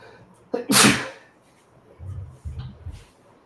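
A single sharp sneeze bursts out close and loud, followed by a couple of low muffled thumps or murmurs from the same indoor room.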